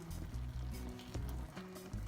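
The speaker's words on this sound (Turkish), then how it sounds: "Yaklaşık iki buçuk saattir kaynıyor." A pot of quince dessert simmers in thick syrup, giving off a faint, steady sizzle and soft bubbling with a low hum beneath, and no one speaking.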